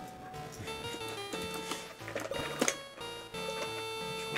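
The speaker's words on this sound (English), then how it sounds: "There's the ice cream truck. Probably everyone can hear that." An ice cream truck's tinkly jingle plays outside, a repeating melodic tune that is clear and moderately loud, with its notes rising and falling in a steady rhythm.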